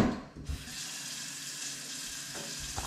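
Water poured steadily from a height into a pot while making homemade Filipino taho, a continuous splashing, bubbling stream that runs alone, close and fairly loud, for the whole stretch.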